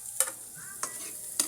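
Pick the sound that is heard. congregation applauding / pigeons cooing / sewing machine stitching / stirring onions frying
stirring onions frying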